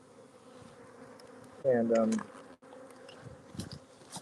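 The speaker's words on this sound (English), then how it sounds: "this is a heavy population of bees in here" Bees at an open, heavily populated beehive, a low insect drone throughout with a louder, closer buzz passing for about a second, under quiet background speech.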